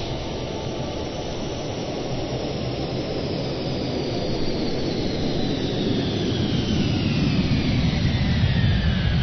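A Boeing 747 passes in a PMDG flight simulator, a broad steady jet roar that swells slightly as it nears, with a faint high whine sliding downward across the pass.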